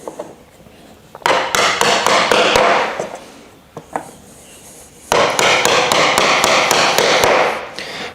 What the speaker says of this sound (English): hammer these uprights into the triangle